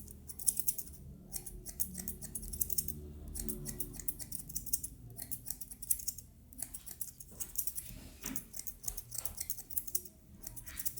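Thinning scissors snip through hair at the nape during a taper fade haircut, a rapid run of crisp metallic clicks in irregular bursts, close and steady for the whole stretch with no talking.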